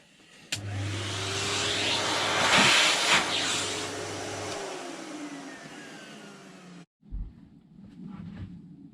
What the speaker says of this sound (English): Okay, so I'll vac that out now.